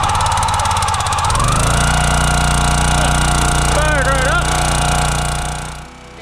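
A log splitter's engine runs loud and close, a steady rumbling drone with a throbbing low tone that holds for several seconds before easing slightly at the end.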